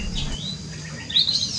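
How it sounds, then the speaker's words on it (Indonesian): Cucak bulbuls, such as mountain and ruby-throated bulbuls, calling in an aviary: a few short, bright chirps and a sharper whistled note near the end over quiet background hum. "Yang paling banyak ya itu spesies cucak ya di aviary kita ini."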